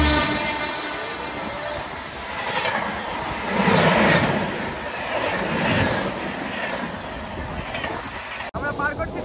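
A Howrah to Digha local train on the South Eastern line rumbles along with a continuous rolling clatter and swells of wheel noise, carriage interior, with a sudden sharp jolt near the end.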